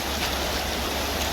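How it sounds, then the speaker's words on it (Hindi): Ice-cold snowmelt water from the mountains rushing down the Jhelum river in Kashmir, a steady, dense broadband roar filling the whole moment with no voices. "बर्फ़ का पानी पिघल के आ रहा है दोस्तों ये पहाड़ों पे से।"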